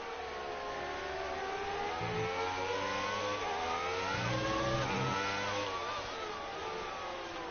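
Formula 1 race cars in the F1 2019 video game, engines revving and shifting pitch steadily as several cars run close together, a dense continuous whine with rising and falling tones and no talk.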